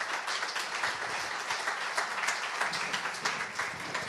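At a French corporate awards ceremony, an audience applauds a company director as he is introduced. Dense, even clapping runs steadily at moderate volume throughout, with no talking.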